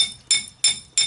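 Three sharp metallic taps ring out on a brake caliper of a GMC or Chevy 4x4 dually, evenly spaced about a third of a second apart, each bright and close with a short ringing decay.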